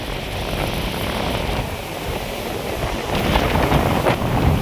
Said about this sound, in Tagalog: Lakas ng hangin, grabe.